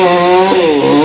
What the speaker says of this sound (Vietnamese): giờ thợ đang cưa bây giờ